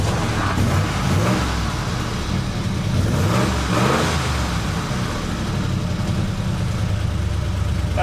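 Engine of an old, formerly abandoned plow truck running steadily as it drives, a continuous loud mid-pitched rumble with slight revving swells throughout, no voices.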